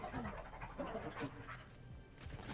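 A dog pants in a Fortnite match, quick rhythmic breaths that repeat steadily over game music and ambient background noise.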